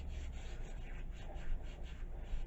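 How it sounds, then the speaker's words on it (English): A wet Scotch-Brite pad scrubs a metal hand tool during a vinegar cleaning job, giving a steady, close, soft rubbing hiss with faint rhythmic strokes and no talking. "Let's just scrub this with our Scotch-Brite pad here."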